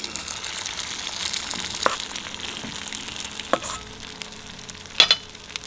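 Feta patties sizzle quietly in a pan with a soft, steady crackle, broken by a few sharp clinks and taps from handling.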